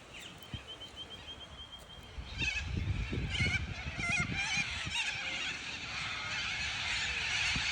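Wild ducks call at a lake outdoors, a busy chorus of honking and quacking that starts thinly and swells after a couple of seconds into a dense, continuous flock sound at moderate distance, with no talking.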